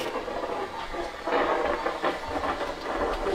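A DIY thunderstorm lamp plays a steady rumble of simulated thunder and rain hiss continuously at moderate volume, with rolling swells but no voices.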